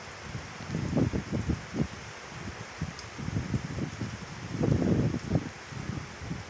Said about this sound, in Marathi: कडक उन्हाळ्यानंतर असा थंडगार गारवा देणारा पाऊस या जलधारा जेव्हा पृथ्वीवर येतात